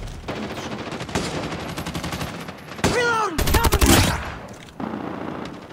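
Gunfire rattles in Call of Duty Mobile multiplayer, with rapid automatic bursts and sharp shots at close range, one louder volley near the middle, and a voice talking underneath.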